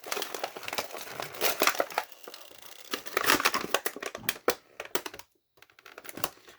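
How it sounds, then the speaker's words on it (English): Crinkling plastic packaging of a DC Multiverse Robin action figure, crackling and rustling in irregular close bursts with sharp snaps, a brief silent pause near the end. "Crinkle time."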